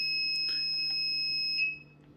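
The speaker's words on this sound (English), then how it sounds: "If you wanted it so the buzzer was on, you can save changes, and that's the noise you're greeted with." A GHL aquarium controller's alarm buzzer sounds a loud, continuous high-pitched electronic tone for about a second and a half before cutting off, leaving a faint low hum.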